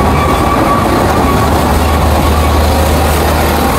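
An amusement park ride train at Fantasy Kingdom rolls along steadily, a loud continuous rumble of wheels and rattling carriages with faint clicking, close by and without pause.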